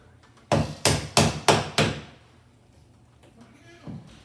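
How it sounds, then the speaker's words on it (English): Five loud, sharp hammer blows strike in a quick, even rhythm while a ceiling fan is being taken down in a dining room, followed by quiet room tone and a faint voice near the end. "That's a hammer."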